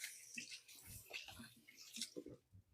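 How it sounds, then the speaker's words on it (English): Hands are quickly rinsed under running water in a home kitchen, giving a soft, continuous splashing with small irregular spatters and drips at close range. "I'm going to give my hands a quick rinse."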